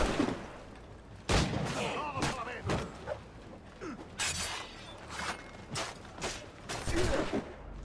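Enemy gunfire in Assassin's Creed IV: Black Flag, a series of loud, sharp shots and impacts at irregular intervals, some close and cracking, with faint game voices underneath.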